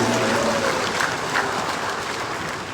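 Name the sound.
applause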